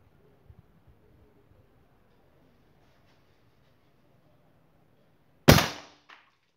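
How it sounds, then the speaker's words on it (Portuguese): A CBC Montenegro 6.0 air rifle fires a pellet at a 30-metre target, giving a single sharp, loud crack with a brief decay. Faint clicks and handling noise are heard beforehand. "Lembrando que os tiros aqui estão sendo feitos a 30 metros"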